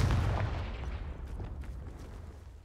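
A Confringo spell blast in the video game Hogwarts Legacy, one loud booming explosion at the start that rolls and fades over a couple of seconds.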